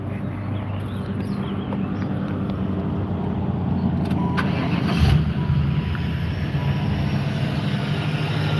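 A car in a wagon car-show setting starts with the hood open, a brief cranking burst about halfway through rising out of a steady, loud low engine rumble.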